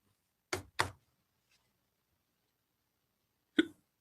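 Three short, sharp hiccups, the first two in quick succession and the third after a pause of nearly three seconds, sound against near silence.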